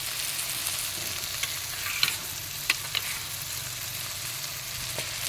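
Spice paste of turmeric, chili powder, ginger and cumin sautéed in a pan, a soft continuous sizzle with a few sharp spoon scrapes and taps.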